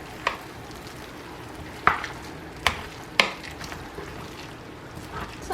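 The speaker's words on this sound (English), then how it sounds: "I'm just gonna give it a nice stir to make sure nothing's sticking on the edges" A spoon stirs mac and cheese made with dry noodles in a baking dish. Soft scraping is heard under a low background, punctuated by four sharp knocks against the dish.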